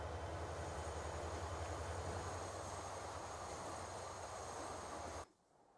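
Trains rolling along a rail line in the simulation game Transport Fever 2, a steady loud low rumble and hum of running rail traffic that holds evenly before cutting off abruptly near the end.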